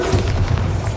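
A Bombarda spell explodes in the Hogwarts Legacy video game: a deep, sustained booming rumble with heavy low thuds, loud and continuous for about a second.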